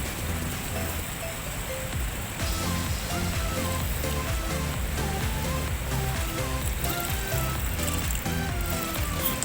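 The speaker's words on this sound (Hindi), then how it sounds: "और अब इसमें ऐड करते हैं पानी।" Water pouring into a camp pot of pasta at an outdoor campfire, a steady loud rushing and splashing that runs continuously and close, with no talk over it.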